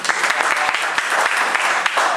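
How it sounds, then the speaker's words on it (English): A tech meetup audience gives a brisk round of applause after a Backbone.js talk, dense overlapping claps with a few sharper individual hits, steady and fairly close throughout. "One more round of applause."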